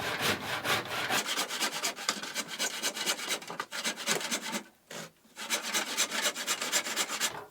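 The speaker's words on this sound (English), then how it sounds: "The saw didn't cut deep enough, so we're just going to finish that off with a hand saw." A hand saw cuts through wood for a rustic nest box in quick rhythmic rasping strokes, close and steady, with one brief pause before the sawing resumes.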